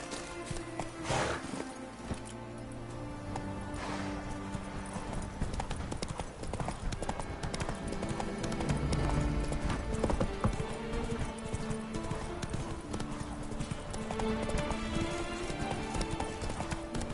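Hooves of a horse in The Witcher 3: Blood and Wine clop in a steady galloping rhythm, with occasional whinnies over game music and ambience.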